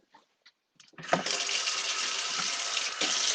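A kitchen tap is turned on and runs steadily for hands being washed after handling raw turkey wings, with a few faint clicks first, then a loud, close, continuous splashing gush.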